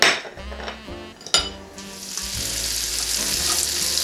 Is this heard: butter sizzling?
yes